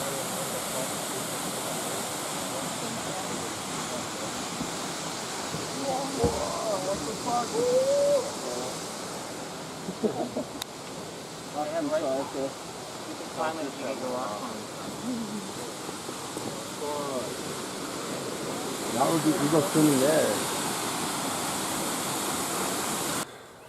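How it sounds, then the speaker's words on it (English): Waterfall in Canada near Niagara Falls, a steady loud rushing roar of falling water heard throughout, with voices and people talking faintly over it at times. "It's a very nice waterfall here."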